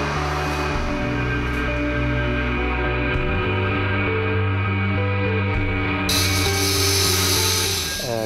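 Drilling 25 mm injection holes into the ground beside a chalet in Lauenen, about 1.5 m apart; a loud, steady motorized drill whine runs continuously with shifting pitch, close by and without talk.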